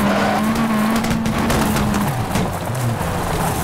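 A rally car in the WRC 3 video game slides through a handbrake hairpin turn, with a loud engine drone and gravelly tire skidding sustained throughout.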